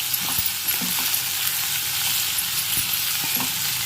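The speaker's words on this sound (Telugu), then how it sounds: "సాల్ట్ వేస్తానండి ఇప్పుడు బాగా కలుపుకుందాం" Brinjal and mango curry in a pan with salt and turmeric, stirred over a bright constant sizzle, with soft scrapes and taps of the spoon recurring every fraction of a second, close up and without talking.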